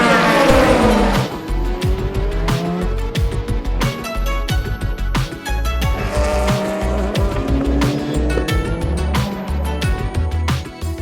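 Peugeot 9X8 600 hp hybrid hypercar with no rear wing racing on a track: loud, continuous engine roar with rising and falling pitch through gear changes, tire squeal in places and sharp transient clicks throughout.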